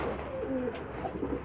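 Racing pigeons coo nearby in a loft, a soft low rolling coo repeated briefly over a steady room hum, with no talking.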